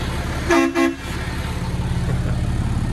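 A loud, deep horn on a BAE Systems M1157 10-ton military dump truck gives two short blasts in quick succession over a steady engine rumble that continues afterward.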